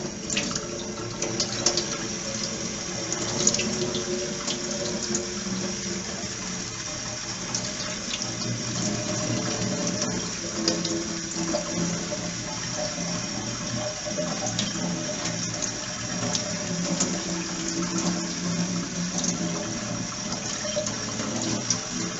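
Tap water runs steadily into a kitchen sink as lentils are rinsed, a continuous splashing rush with light swirling and small clinks from the bowl, no voices.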